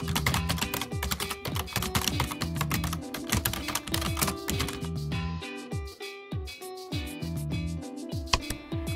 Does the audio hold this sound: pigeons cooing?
no